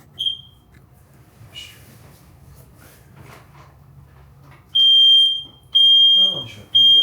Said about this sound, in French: Le détecteur de fumée, il fait des petits bips à intervalles réguliers